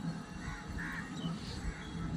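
Crows caw faintly in the distance as birds fly back toward their nests at an outdoor spot near a temple, a few hoarse calls spread over a soft, windy background with no talking.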